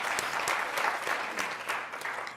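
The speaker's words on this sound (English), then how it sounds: "Let's give our panelists a round of applause." Conference audience applauding panelists at a policy forum, a sustained round of many hands clapping with sharper individual claps popping through, fairly distant and even in level.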